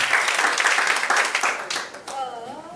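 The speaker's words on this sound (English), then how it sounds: "So clap for yourself with a warm hug." Audience clapping at a training event, dense broadband applause with voices mixed in, tapering off near the end as a lone voice rises over the fading claps.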